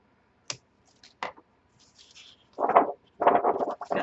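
Heavy cardstock paper rustles and flaps in a few sharp handling sounds, then louder crinkly shuffling bursts close up.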